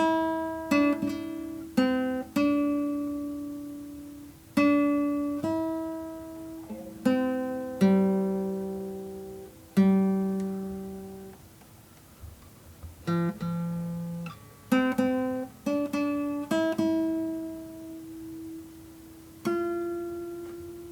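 A clean guitar plays a slow melody from Coco one plucked note at a time, each note ringing out and fading before the next, with no talking.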